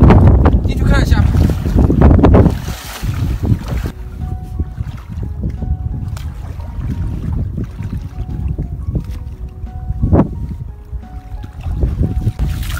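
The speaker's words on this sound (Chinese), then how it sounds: "今天天气还晴暖，就是风有点大" Strong wind buffets the microphone on a seashore at low tide during crab catching, a loud continuous roar with gusts, occasional splashing and brief talk.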